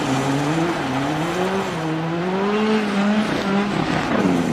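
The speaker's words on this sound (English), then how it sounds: "Before the corner, turn hard into it and pull the handbrake." Rally car engine in Richard Burns Rally whining through rising and falling revs into a handbrake hairpin, with a steady gravel-like skid hiss underneath, loud and continuous throughout.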